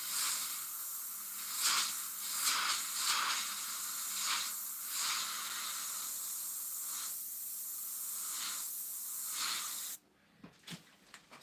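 An airbrush sprays paint for macro painting of a cat's eye and fur, giving a steady airy hiss with brief pulses. The hiss cuts off near the end, followed by a few soft clicks.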